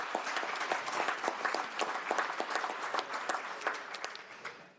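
Steady audience applause at a legislative agriculture and natural resources committee meeting, a sustained patter of many hands clapping at moderate distance for the whole stretch, with no talking over it.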